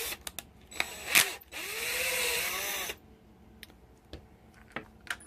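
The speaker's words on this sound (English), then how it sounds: "And then this one doesn't need to be drilled all the way through, but just until you can kind of feel it bottom out." A hand drill bores into 3D-printed snow blower kit parts in short bursts, with one sustained run of whirring and a few clicks and knocks of handling around it, close and fairly quiet.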